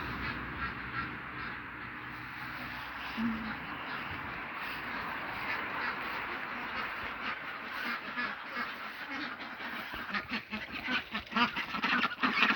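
Ducks quack steadily in a dense, overlapping chorus, with splashing and dabbling growing louder and busier toward the end.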